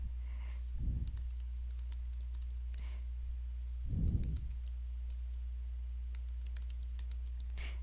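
Typing on a computer keyboard, soft scattered key clicks in bursts over a constant low hum, with two brief louder low thumps at intervals; quiet and close, no voices.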